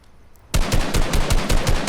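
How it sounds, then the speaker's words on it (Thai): A gun in Fortnite opens fire after a brief quiet moment, and a loud, rapid burst of evenly spaced shots runs to the end. "มันจะออกลูกช้ากว่านะ แต่ว่ามันจะยิง ยิงได้ยิงได้นิ่งกว่านะ"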